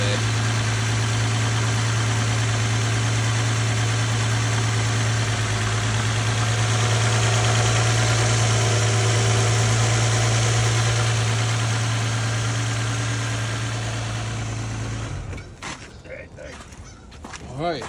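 A 2005 Infiniti FX35 engine idles steadily at a vehicle towing and recovery auction, a continuous close hum with a strong low drone that cuts out near the end, leaving handling noise and faint background sounds.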